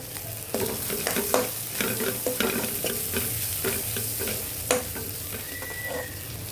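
Turmeric and chili powder fry in oil for a ridge gourd and chana dal curry. A spatula scrapes and stirs the pan in repeated close strokes over a constant sizzle.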